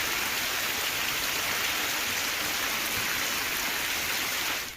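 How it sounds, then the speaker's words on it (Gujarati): Steady rain pours down in Gujarat villages such as Jugnathpur and Sonikpur during a heavy rain spell, a dense, even hiss of falling water without pause until it cuts off at the end. "જુગનાથપુર અંબાવા કોયલિયા સોનિકપુરમાં વરસાદ જોવા મળ્યો"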